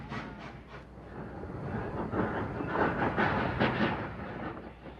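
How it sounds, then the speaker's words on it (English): An old train climbs a mountain on its rails, with a steady rolling rumble and faint rhythmic clatter that swells slightly midway, heard alone. "the ghost train made her way up the mountain"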